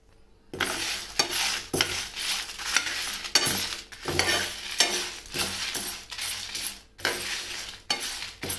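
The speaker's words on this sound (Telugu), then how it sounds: "వెల్లుల్లి ఇంకా ఎండుమిర్చి కూడా వేసుకొని ఫ్రై చేసుకోవాలి" Coriander seeds, garlic and dried red chillies fry in a pan with steady crackling sizzle, broken by repeated scraping stirs of a spatula against the metal, close and fairly loud, with no voices.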